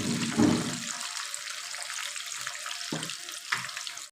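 Fish pieces frying in hot oil in a restaurant-style fish fry, a steady close hiss and crackle with a few brief louder bursts of bubbling, no talking.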